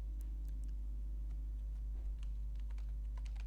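Quick, light keystrokes tap on a computer keyboard while filling in an online form, irregular clicks over a low steady hum, close and fairly faint, with no talk.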